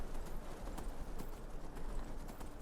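Horse hooves clip-clopping in a steady gallop while riding through the video game Skyrim, a continuous rhythmic beat at moderate volume over ambient game noise.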